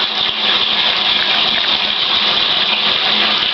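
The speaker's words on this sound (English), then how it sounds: "So let's shut the shower off." Shower water pours steadily into a bathtub as a dense, continuous hiss and splash close by, with no one speaking.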